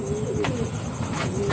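A pure white pigeon coos several times in brief low calls from close by, amid a steady background hiss, with no talking.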